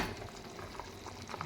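A pot of South Indian vegetable sambar with toor and moong dal simmers, a soft, steady bubbling hiss with faint pops, close by and unbroken for a short stretch.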